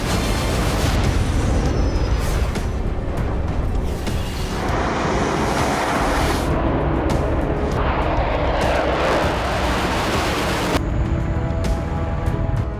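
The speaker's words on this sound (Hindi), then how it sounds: "रूस के 2 Sukhoi Su-27 flanker jets Baltic state reason के हवाई क्षेत्र में उड़ान भरते दिखे हैं" Russian Sukhoi Su-27 Flanker fighter jets flying over the Baltic region, a loud continuous roar of jet engines that surges and shifts in tone over several seconds, with abrupt changes like edited shots.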